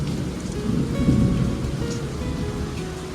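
A storm with steady rain and a deep rumble of thunder that swells and fades, heard as a continuous low roar outdoors with no talking.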